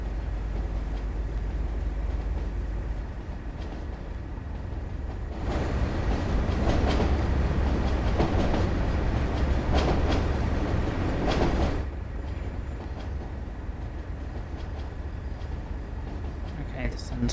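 A freight train rolls along in Train Sim World 2, a steady dense rumble and rattle that swells louder through the middle before settling back to a constant drone.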